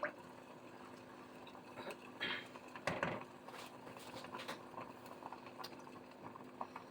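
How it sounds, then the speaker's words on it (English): Faint, gentle bubbling of water on a very low simmer in a pot, with scattered soft pops and ticks over a quiet background. "I'm on a super small simmer for water"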